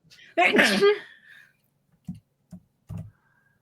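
A single loud, close sneeze bursts out, followed by a few soft clicks or taps in an otherwise quiet room during an online tabletop role-playing game session.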